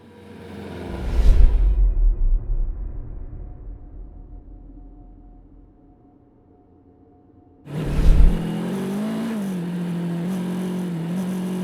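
A Kawasaki KLE500 motorcycle with a 45-horsepower engine, no traction control, revs hard twice, each burst loud and close as the rear wheel spins, separated by a fading, quieter engine drone and a brief near-silent lull.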